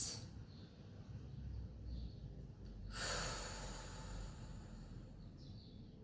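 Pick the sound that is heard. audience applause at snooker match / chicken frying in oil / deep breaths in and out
deep breaths in and out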